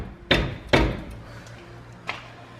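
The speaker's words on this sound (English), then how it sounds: "we're just going to use a mallet." A mallet hammers a CV axle into a wheel hub. Two loud, sharp thuds land close together, then a fainter tap follows against a low background hum.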